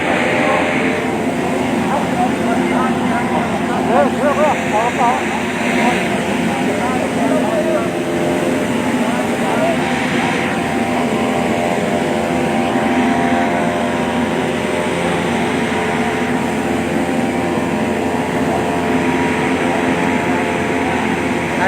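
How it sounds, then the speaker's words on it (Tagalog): A chartered plane arriving at Marinduque Airport: a steady, loud, continuous engine drone with a propeller-like hum that holds throughout, and a voice talking faintly underneath. "dumating na nga po dito sa Marinduque Airport ang sinasakyang chartered plane ni Secretary Silvestre Bielio"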